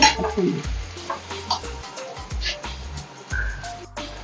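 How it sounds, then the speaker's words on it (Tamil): Onions and green chillies sautéing in a pan, with a close sizzle broken by several scraping stir strokes of a spoon against the pan, loud and steady with no talk. "இப்போ வந்து வெங்காயம், பச்சை மிளகா வதங்கி வச்சு"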